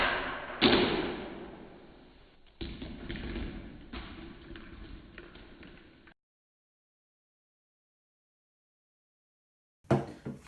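A homemade drain blaster shotgun toy being fired: a sharp pneumatic pop with a thump, followed by rattling and handling noise, then silence and a brief clatter at the end.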